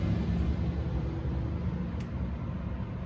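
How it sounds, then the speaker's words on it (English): A heavy cement truck rumbles past, a steady low engine drone filling the scene without any voices. "Now it's a cement truck."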